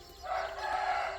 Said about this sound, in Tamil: இந்த கோழிகள்லாம் இப்போ நம்ம வந்து ஓப்பனில் விட்டுருக்கோம்.